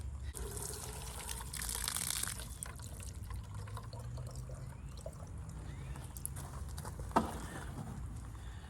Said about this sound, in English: I got my watering can, and I'm just going to fill it up